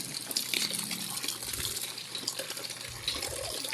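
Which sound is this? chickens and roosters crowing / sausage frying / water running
water running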